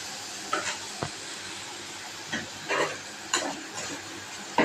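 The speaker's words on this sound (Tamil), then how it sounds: "கடாயில் போட்டு கொஞ்சமாக வறுத்து எடுக்கணும்" Paneer and baby corn frying in a kadai, a soft sizzle punctuated by intermittent stirring clatters and spatters, close and fairly quiet with no talking.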